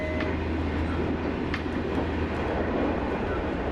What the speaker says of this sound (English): We will watch a train arrive at Braunschweig from the point of view of the locomotive engineer and of the train director.